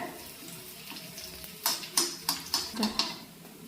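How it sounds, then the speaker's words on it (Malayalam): Onions and chilies fry in a pan with a soft steady sizzle, joined by a series of short scraping stirs that come in a quick rhythmic run, close and quiet. "ഉള്ളിയും മുളകും ഒക്കെ മൂത്ത് വന്നിട്ടുണ്ട്"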